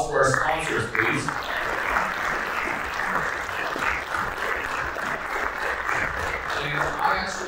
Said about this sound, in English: one more round of applause for our sponsors, please